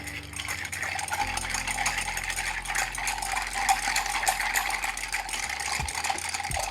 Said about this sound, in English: I'm going to take out my stirring spoon here, and we'll get to stirring.